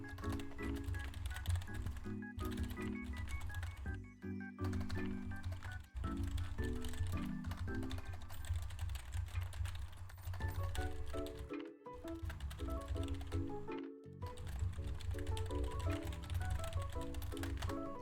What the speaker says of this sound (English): I'm just typing some messages to my Discord